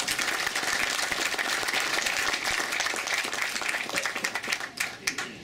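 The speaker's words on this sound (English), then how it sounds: "please give a round of applause to them" An audience at a dinner event applauds, with a dense, even burst of clapping at moderate distance that thins into scattered claps over the last second.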